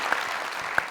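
Brief burst of audience applause at a live comedy talk show, a soft wash of clapping from a studio crowd, fairly faint and lasting under a second.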